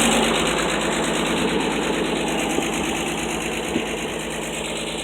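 A 1984 Ford F250 engine idling: a steady, loud, close mechanical rumble with a fast, even ticking rhythm that runs throughout, with no talking.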